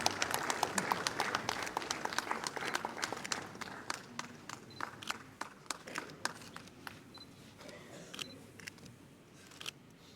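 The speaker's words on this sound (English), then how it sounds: "A huge round of a warm round of applause, ladies and gentlemen" Scattered audience applause at a formal event, individual claps sharp and spaced, thinning out as the clapping fades, heard alone without talk.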